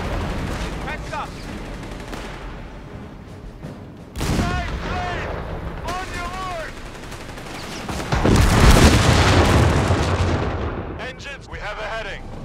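Wartime artillery fire, cannon blasts and bursts of gunfire in a Company of Heroes 3 North Africa battle at El Alamein, loud booming impacts and rattling shots building to a heavy barrage, with game unit voice lines heard over the fighting.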